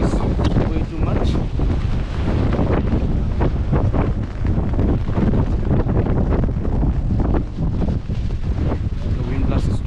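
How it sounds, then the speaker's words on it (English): Strong gusts buffet the microphone at a waterfall in Meghalaya, producing a constant loud, rumbling roar that never lets up, with no clear gaps. "we have reached Meghalaya Falls and the wind is way too much."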